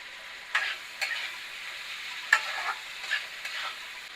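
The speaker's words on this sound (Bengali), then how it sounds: "এই পনিরটা দিয়ে একটু নাড়াচাড়া করে হালকা জল দিয়ে দেবো।" Paneer fries and is stirred in a pan for a paneer curry, with a steady soft sizzle and a few sharp scrapes and knocks of the spoon spaced through it. The sound is close and moderately quiet, with no talking.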